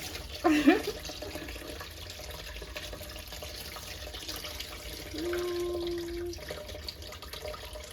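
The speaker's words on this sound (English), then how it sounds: "I'm gonna drain the water." Water splashes and trickles as rinse water is drained from washed rice in a sink, with quiet running-water noise throughout, a short faucet squeak near the start and a brief whistle-like tone later.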